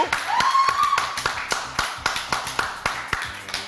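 A TV studio audience claps in a sparse, regular beat of distinct sharp hand claps, evenly spaced and moderately close, with a short tonal sound rising at the start.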